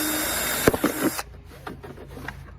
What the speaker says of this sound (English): I'm going to drop 8 holes in this bucket with a 1/8 inch drill bit.